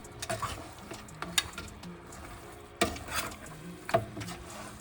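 Afang leaves stirred into a pot of Nigerian Afang soup, Akwa Ibom style, with soft scraping and a few sharp utensil knocks against the pot over a quiet simmer.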